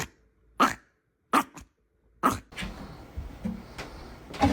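A Chihuahua gives sharp, loud barks, single and doubled yaps separated by silence, before louder indoor noise and movement follow.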